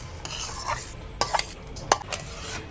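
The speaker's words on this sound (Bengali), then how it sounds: "তাল পাঁকিটা কড়ার মধ্যে দিয়ে দিব।" Ripe palm pulp stirred in a wok on a gas stove: faint, soft scraping and stirring, with a few sharper clinks of the utensil against the pan.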